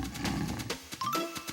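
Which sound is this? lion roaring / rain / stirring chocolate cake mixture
lion roaring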